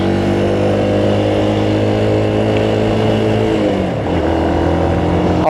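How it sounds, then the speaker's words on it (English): A motorbike rides along a road, its engine droning steadily and loudly up close throughout, with a brief dip in pitch as it shifts or slows near the end before pulling on again. "Oh, we do like to run around on the motorbike."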